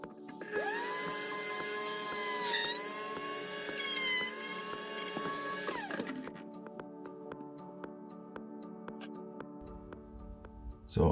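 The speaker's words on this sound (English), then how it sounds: "Let's get the hole drilled here for the wiring to go down into the stand." A small high-pitched rotary drill whines steadily as it bores a wiring hole into the stand of an Enterprise-D refit model, then winds down and stops, leaving a quiet room with faint clicks.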